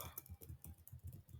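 Quiet, rapid keystrokes on a computer keyboard, a steady run of soft clicks close by with no voices.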